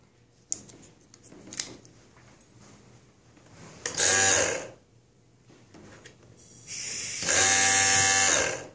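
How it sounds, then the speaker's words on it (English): A CVR VP665 vane-style brake vacuum pump switches on in short bursts: faint clicks, then a near, fairly quiet whirring hum for about a second, a pause, and a longer two-second run. "This is a vane style vacuum pump."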